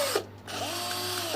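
A cordless drill spinning in reverse (left-rotation) mode gives a short, close, continuous motor whine that briefly shifts in pitch.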